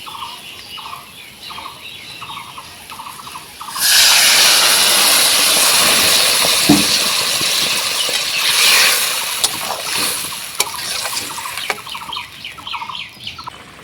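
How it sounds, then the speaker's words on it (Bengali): Water poured into a pan of taro and potato frying in spices sets off a loud, sudden burst of steam hiss that stays strong, then settles into a rougher sizzle with scattered crackles and clicks. "এখন কষিয়ে আনার জন্য একটু জল দিয়ে দেব।"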